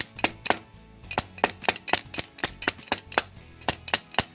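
Sharp, rapid knife chops on a cutting board as beef is minced, a steady stream of about twenty strikes in quick rhythm, close and loud with no talking.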